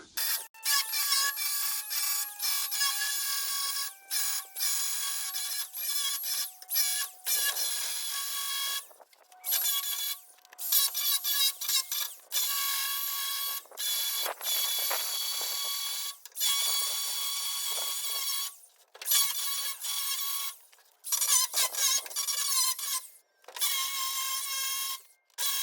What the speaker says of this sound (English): I'm gonna have to grind down some more, and we're gonna go ahead and do that now.